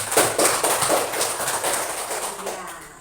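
A classroom audience in Ambon claps for Desa, a dense burst of many hands applauding together, loud and close, tapering off over about three seconds.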